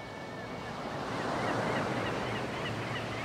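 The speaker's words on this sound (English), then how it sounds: "The age-old sound of the sea." Sea waves at high tide on a beach under a full moon, a steady wash of breaking surf that swells slightly in the middle, with a faint gusty edge of wind and no voices.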